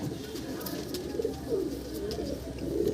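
Several pigeons coo in soft, repeated low rounded calls close by, overlapping steadily through the clip at a moderate level with no talking.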